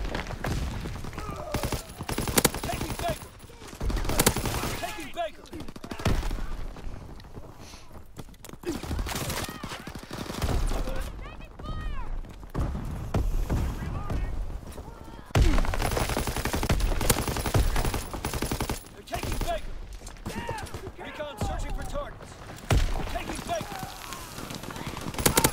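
Dense gunfire in a WW2 shooter game, machine-gun bursts and single rifle shots cracking almost continuously for the whole stretch, with thuds and battlefield noise while voices shout and talk over it.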